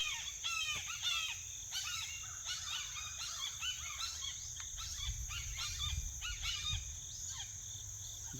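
Several birds call and chirp in short, agitated bursts outdoors at a shooting range, moderately close over a quiet background hum with a steady high insect-like whine, no talk.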